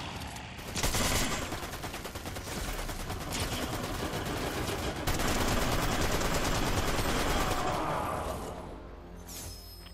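Sustained automatic gunfire and bursts of shots in a Fortnite Chapter 5 battle royale match, loud, dense and continuous for most of the stretch before easing off near the end.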